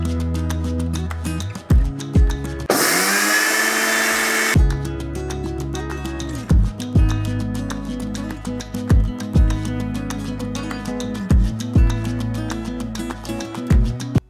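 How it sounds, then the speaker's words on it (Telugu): A mixer grinder whirs as it powders mustard seeds in its jar, a loud, harsh burst of about two seconds over steady rhythmic background music. "ఇదిగో ఆవాలు చూస్తారు కదా, మిక్సీ దాంట్లోకి జార్లోకి తీసుకోవడం జరిగింది."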